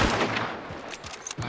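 Gunfire in Hunt: Showdown, a sharp close shot at the start followed by a few quieter cracks and rattles over about a second and a half.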